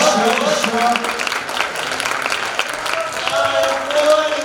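Audience applause at an annual theatre awards ceremony for young actors and actresses, a fairly loud spread of clapping across the room with voices talking over it throughout.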